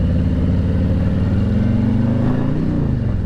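Engine of a 2020 Harley-Davidson Street Glide Special (FLHXS) custom build on a test ride, a loud, steady, deep rumble holding throughout.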